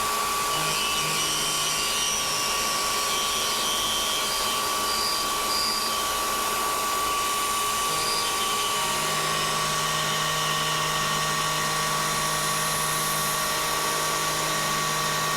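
A CNC Bridgeport mill cuts steel with a 3-flute cutter at about 2,800 RPM, feeding 10 inches per minute at a 0.1-inch depth of cut. It gives a continuous, loud, high whine with a grinding edge that shifts slightly in pitch partway through.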